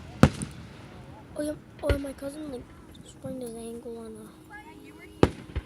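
July 4th fireworks in 2016 go off as sharp booms, one near the start, another just before two seconds and a loud close crack near the end, while someone talks over the gaps between bursts.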